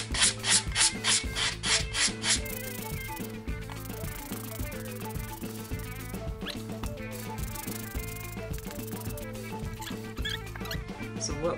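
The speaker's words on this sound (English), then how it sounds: "Now we're going to take our sanding block and just smooth that down." Rhythmic scraping of a block rubbed back and forth over wood, quick rasping strokes at first, then steady continuous sanding at close range.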